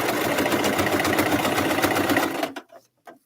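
A sewing machine runs steadily while stitching a tufted pillow, a loud continuous mechanical whir for about two and a half seconds that stops abruptly, leaving a few faint clicks.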